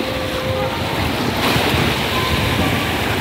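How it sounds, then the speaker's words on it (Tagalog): Strong sea waves surging along a shoreline where crabs are being hunted, a loud continuous roar of churning surf mixed with heavy wind buffeting the microphone, with no voices. "Sobrang lakas ng alon"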